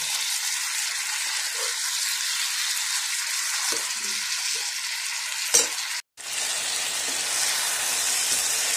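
Local chicken cooking in a pan on a hostel stove, with a constant loud sizzle and occasional clanks of stirring, and one brief cut-out in the sound.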